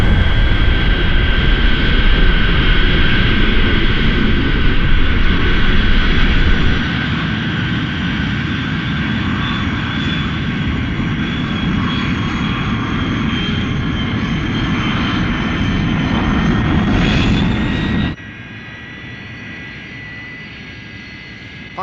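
Fireflash airliner engines from a Thunderbirds episode roar in a steady, loud, continuous whine with a rumbling low end, dropping sharply to a quieter drone near the end; no talking.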